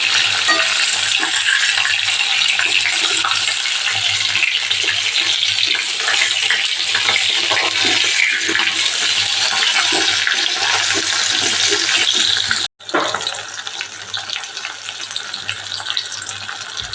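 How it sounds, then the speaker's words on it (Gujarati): Green chillies stuffed with potato fry in a pan and are gently turned, filling the scene with a loud, continuous hissing sizzle that breaks off briefly near the end before resuming. "હવે આપણે મરચાંને હળવે હાથે ફેરવી દઈશું"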